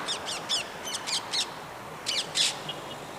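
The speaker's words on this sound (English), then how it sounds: "And some parrots, can you hear the parrots?" Parrots call outdoors in quick bursts of sharp, raspy chirps, several clusters spread across a few seconds at moderate distance, with no talking.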